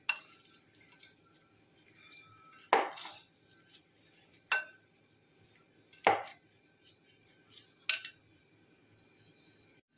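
Boiled potatoes being mashed with a pav bhaji masher in a bowl for cheese balls, heard as four or five sharp clinks and thuds spaced a couple of seconds apart, with faint scraping in between.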